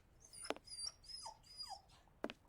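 A dog in a Victorian London pet shop in Sherlock Holmes: Jack the Ripper lets out a few soft, high whimpers and whines, with two sharper yelps near the start and end, quiet and close with no talk.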